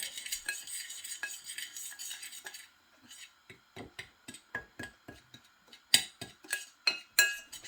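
Seasonings for Jamaican fried fish being stirred together in a bowl, a utensil scraping and clinking in a quick, uneven rhythm of close, crisp taps, with a softer swishing stretch at the start.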